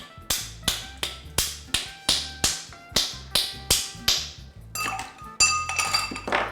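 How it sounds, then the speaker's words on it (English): Ice being cracked for a gin and dry vermouth martini: a steady series of about a dozen sharp, evenly spaced cracking knocks, followed by a jumble of rattling, clinking ice at the end, close and fairly loud. "Crack some ice."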